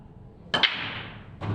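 A snooker break-off shot at the Masters 2025: a crisp cue-ball strike, the clatter of balls scattering across the table and a lingering ring, then a second knock about a second later.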